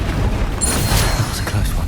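A Bombarda spell explosion in Hogwarts Legacy lands as a dense, rumbling blast that fills the whole moment, with no voices over it.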